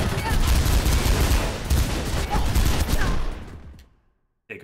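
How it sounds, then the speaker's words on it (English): A dense burst of rapid gunfire in the video game Mirror's Edge strikes the player, loud and close, then cuts off into near silence before one short final sound. "Take a few bullets when you're running around."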